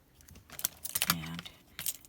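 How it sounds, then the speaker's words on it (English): Sheet of paper being folded in half for a paper tassel craft, with crisp crinkling and rustling bursts close up, ending in a brief handling sound. "so I'm just going to fold this in half"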